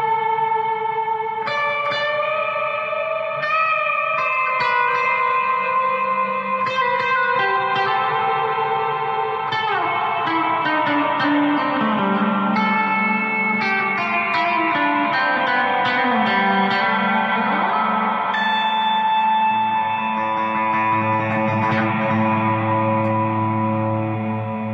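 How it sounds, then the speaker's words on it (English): Electric guitar through a Blackstar ID:CORE Stereo 20 V3 amplifier with reverb at maximum: picked notes and chords bloom into long, washy tails that overlap and sustain, played alone without talk. "Huge reverb."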